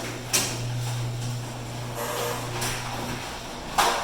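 A Chamberlain belt-drive garage door opener lowers a garage door that is in bad shape, giving a steady low motor hum that runs for about three seconds and then cuts off, with a few clunks and rattles along the way.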